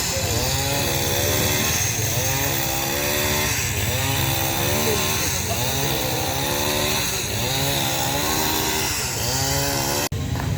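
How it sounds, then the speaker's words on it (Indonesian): A chainsaw runs nonstop, cutting flood debris jammed against a bridge, its engine loud and close as it revs and bogs in repeated surges through the cut, with no voices over it. "sebagian sedang dilakukan pemotongan ya menggunakan gergaji mesin"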